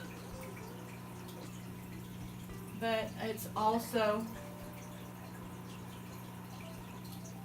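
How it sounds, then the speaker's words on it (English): Water from a mother tank trickles slowly through an airline hose into an angelfish fry tank, a soft steady flow with a few brief louder splashy bursts in the middle, under a voice talking nearby. "I don't know if you can see how slow it's pouring in"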